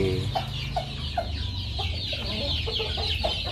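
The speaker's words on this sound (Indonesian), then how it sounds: "Ini ayam jenis sanggar." A sanggar-breed chicken clucks in short repeated notes, close by, over a steady background of farmyard noise and a high insect-like hiss.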